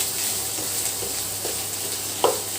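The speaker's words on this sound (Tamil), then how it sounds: "நல்லா கட்டி இல்லாமல் நல்லா எல்லா பக்கமும் படுற மாதிரி நல்லா ஃப்ரை பண்ணி விட்டுரும்" Rice is fried with amla masala in a pan, with a continuous low sizzle broken by a few light stirring scrapes and one sharper clack near the end, heard up close.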